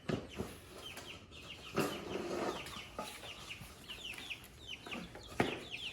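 Scattered hen clucks and short squawks from a few chickens nearby, with rustling and some handling bumps in between.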